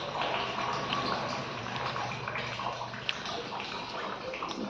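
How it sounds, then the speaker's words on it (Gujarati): Tap water runs in a continuous gurgling rush for the whole stretch, with faint voices in the background. "પાણી આવ્યું ને આવશે આવશે."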